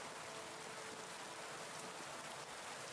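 Heavy rain in Kingdom Come: Deliverance 2, a dense, constant hiss of falling drops that fills the scene evenly and steadily without a break.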